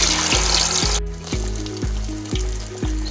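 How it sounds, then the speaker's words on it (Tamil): Fish fries in hot oil with a dense, steady sizzle and crackle, interrupted by a series of regular low knocking or stirring thumps about every half second. "சரியே நம்ம இந்த கலர் வர வரைக்கும் தாங்க நம்ம மீனை வந்து பொரிச்சு எடுக்கணும்."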